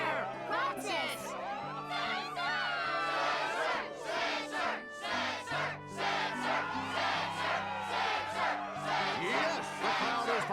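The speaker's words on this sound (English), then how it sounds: "Yes, the crowd is fired up" A roaring, cheering crowd at the Struggle tournament in the Kingdom Hearts 2 video game, loud and sustained for about ten seconds, with a voice and game music layered over it.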